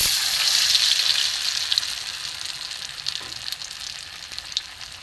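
Egg yolk balls dipped in cornflour batter sizzle in hot oil, a close, loud, steady crackle with sharp spits and pops that gradually settles down over a few seconds, with no talking.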